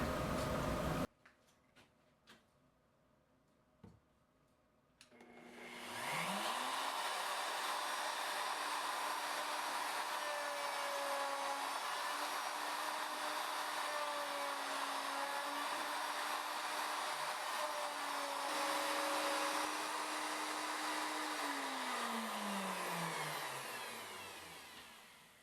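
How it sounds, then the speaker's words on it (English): Power tool cutting hinge mortises into a cherry jewelry box lid, first a few clicks and knocks, then a loud steady whine that holds for about fifteen seconds before winding down. "I'm set up to cut the mortises for the lid."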